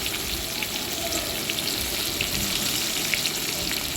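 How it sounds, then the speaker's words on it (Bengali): Fish frying in a pan in a home kitchen, a steady broadband sizzle that stays even and close throughout, with no talking. "এখানে মাছ ভাজা হচ্ছে"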